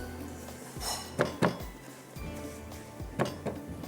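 Semolina is roasted in ghee in a pan, giving soft scraping and clinking as a utensil stirs it, with a few sharper knocks against the metal.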